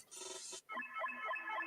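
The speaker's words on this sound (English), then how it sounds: "That's a phone call." Phone ringtone from an incoming call, a bright electronic tone followed by a repeating melodic ring pattern, loud and close, with no talking over it.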